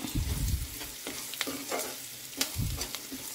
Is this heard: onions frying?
yes